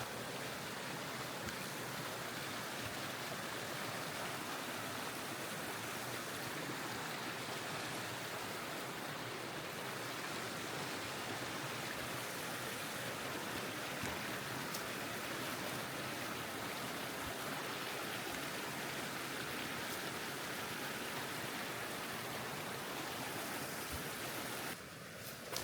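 A mountain creek rushes over rocks below a hiker's crossing on Pole Creek Trail, a steady, full hiss of flowing water that fills the whole stretch without a break.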